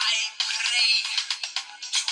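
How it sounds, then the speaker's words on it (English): A bright, electronic ringtone melody plays alone in pulsing bursts, fairly loud and close, with a few short gaps between phrases. "Do you want to hear my ringtone?"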